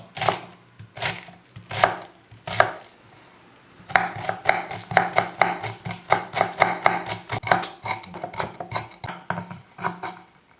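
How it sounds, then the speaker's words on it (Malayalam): A small piece of cabbage is finely chopped with a knife on a board, rapid sharp knocks in uneven bursts, sparse at first and then dense and steady, close and clear with no talking. "ഒരു ചെറിയ കാബേജിൻ്റെ കഷ്ണം എടുത്തിട്ടുണ്ട് അതങ്ങനെ കുനുകുനാ നമുക്ക് അരിഞ്ഞെടുക്കാം"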